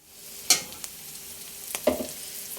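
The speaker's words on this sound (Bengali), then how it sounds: "এখন এটা নেড়ে চেড়ে একটু লাল লাল করে নেব" Onions frying in a pan are stirred, giving a soft, constant sizzle broken by a few sharp scrapes and clacks of the spoon against the pan.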